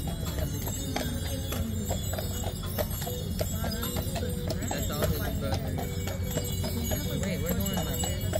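Horse hooves clip-clopping in a steady rhythm as a holiday sleigh carriage ride rolls along at a campground resort, with people chatting over the hoofbeats throughout.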